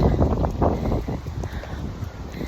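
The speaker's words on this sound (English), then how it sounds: "it's getting a little bit windy." Gusty wind buffets the microphone in uneven rumbling bursts, loud and close, with no voices.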